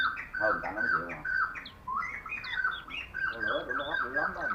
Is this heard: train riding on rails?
no